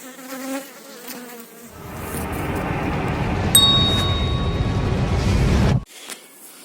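A small honey bee swarm at an apiary hums with a dense, close buzz that swells in after a quiet start, holds loudly for a few seconds, then cuts off abruptly, with a faint metallic ding partway through.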